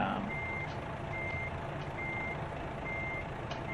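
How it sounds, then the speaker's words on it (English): A truck's backup beeper in American Truck Simulator sounds four steady evenly spaced beeps over a constant engine and road rumble, moderately loud with no talk. "turn off the backup beeper in your options menu when you get into the game"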